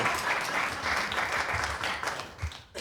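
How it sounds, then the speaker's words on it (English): A town hall audience applauds steadily for about three seconds at moderate loudness, the clapping thinning briefly near the end before a final burst. "You can go ahead and clap for me."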